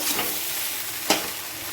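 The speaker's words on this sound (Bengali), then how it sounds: "তো আমি চিনিটা ভালো করে আবার নেড়ে চেড়ে নেব।" Flattened rice pulao with sugar stirred in a pan, a soft continuous sizzle with scraping strokes and one sharp clack of the spoon against the pan, close by with no voices.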